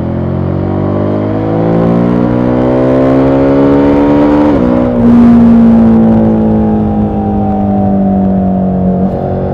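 A Suzuki V-Strom 1050 adventure motorcycle on the road, its engine droning loud and close with rising and falling pitch as it is ridden and the quickshifter changes gears smoothly, with steady wind noise throughout.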